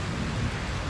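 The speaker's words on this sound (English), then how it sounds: "This is the craziest storm I've ever been in." A violent thunderstorm under a blackened, orange-glowing sky, with heavy rain pouring and thunder rumbling in a loud, dense, continuous wash of noise.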